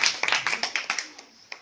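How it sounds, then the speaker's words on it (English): A small workshop audience gives a brief round of applause, a dozen or so sharp, separate claps that thin out to a few stray ones at the end, close and fairly quiet. "Can you give a big round of applause for your question?"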